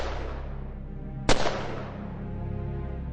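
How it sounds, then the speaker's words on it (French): A single sharp gunshot cracks over a sustained low musical drone in a dramatized scene of the 1914 assassination of the Austro-Hungarian heir, followed by a short decaying echo. "Des coups de feu"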